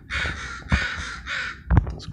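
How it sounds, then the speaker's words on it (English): Crows caw loudly and repeatedly near a backyard pear tree, about five harsh calls in quick succession with a couple of soft thumps between them. "Those crows are going fucking crazy"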